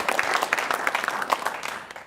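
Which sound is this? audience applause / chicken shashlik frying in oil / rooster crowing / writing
audience applause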